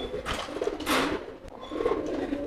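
Homing pigeon cooing nearby in soft, low throaty phrases, two or three rolling coos with a brief flutter between, fairly close and without talk.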